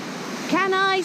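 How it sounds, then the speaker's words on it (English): Steady rush of flowing water at the waterfall by Gibson Mill, a continuous broadband wash with a voice briefly rising over it midway. "uneven rocks over moving water at the waterfall ahead"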